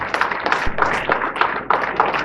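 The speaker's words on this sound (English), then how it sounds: "Can we give them a round of applause?" Audience clapping during a university inaugural lecture, a dense, steady patter of many hands that carries on at a fairly loud level for the whole stretch.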